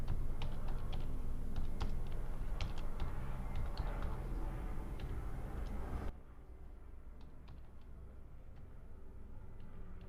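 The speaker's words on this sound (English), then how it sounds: "now you just type the name of your organization" Light keystrokes on a computer keyboard, scattered taps over a steady low background hum that drops partway through, close and quiet, with no talking.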